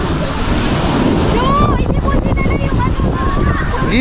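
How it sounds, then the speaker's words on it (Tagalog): Strong waves crash and churn on a rocky beach at Canyon Cove, a loud, continuous roar of surf with heavy wind buffeting the microphone throughout. "Lakas ng alon!"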